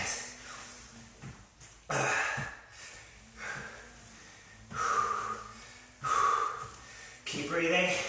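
Heavy, forceful breaths during a HIIT workout, several loud gasping exhales and snorting inhales in irregular bursts close to the microphone, with some talk mixed in.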